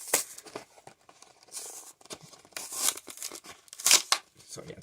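Close tearing and crinkling as diecast car packaging is ripped open, in uneven bursts of rips and rustles with louder tears toward the end.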